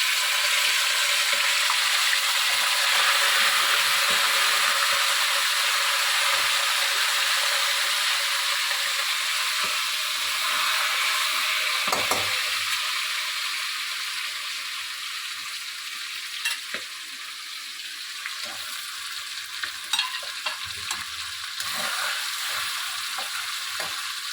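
Pieces of boal fish roe fry in hot oil, giving a loud, steady crackling sizzle that eases slightly partway through, with occasional sharper pops and spatters.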